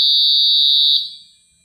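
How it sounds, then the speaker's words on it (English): A Honeywell GasAlertMicro 5 gas detector sounds its startup alarm, a single loud, piercing high-pitched tone held for about a second before cutting off and fading away. "You can see there's a very loud noise for alarm, so it's very much audible from long distance"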